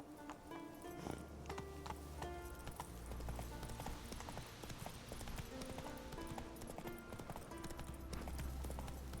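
Hooves of Roach, a horse in the video game The Witcher 3: Wild Hunt, pound in a fast, steady clip-clop that runs throughout, with game music and ambience under the continuous rhythm.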